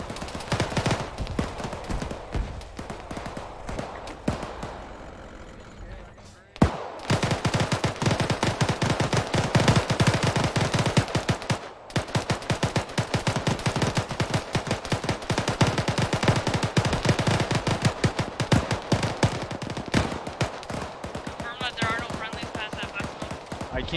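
Machine gun fire in the military shooter ArmA 3 during a vehicle-supported combat operation, long loud sustained bursts of rapid automatic shots with a short pause, under radio chatter.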